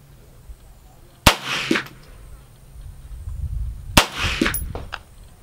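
.22LR rounds striking a steel target at 100 yards, heard as two sharp cracks a few seconds apart, each followed by a short metallic ring and rumble amid outdoor background noise.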